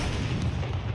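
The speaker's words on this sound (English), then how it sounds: "I grenaded myself" A grenade detonates in the survival game SCUM, a single loud, dense blast with a deep low rumble that fills the whole moment, heard alone without talk.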